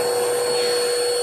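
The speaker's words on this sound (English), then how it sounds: "I don't know how many cats will let me vacuum them." A vacuum cleaner runs steadily and loudly, close by, while it vacuums a cat's fur on a couch, a continuous whine with a strong tonal hum and no breaks.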